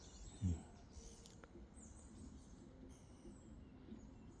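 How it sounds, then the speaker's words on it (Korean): Faint, scattered birdsong drifts through a quiet, deep mountain forest in Korea, with a soft thump near the start and a low rumbling background underneath. "깊은 산이라 그런지 새소리가 또 다양해요."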